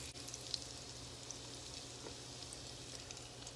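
Olive oil and butter simmering in a pan, a faint, even sizzle with tiny pops that stays steady throughout.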